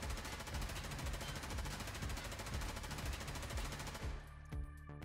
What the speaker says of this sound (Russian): Теперь переходим в тир и постреляем.